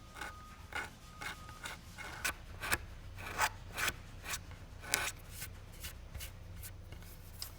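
Hand file rasping a chamfer along the damaged edge of a polyester piano finish, a series of short scraping strokes in an uneven rhythm, close and fairly quiet.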